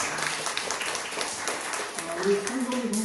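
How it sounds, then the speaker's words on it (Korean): A church congregation claps together during a service, a dense, steady wash of applause with a voice and faint tones underneath toward the end. "다시 박수 한번 해주시죠."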